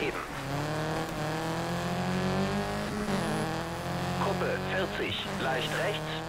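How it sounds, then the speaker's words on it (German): Rally car engines in the video game Colin McRae Dirt 2 drone and rev continuously, pitch shifting with gear changes, with a brief squeal of tires near the end. "für 2009 klingen die Autos wirklich sehr, sehr gut"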